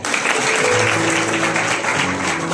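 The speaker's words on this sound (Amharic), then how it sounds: "አጨብጭቡ በደንብ" An audience applauds with dense, steady clapping that stays loud and even through a short burst, with a faint tonal hum underneath.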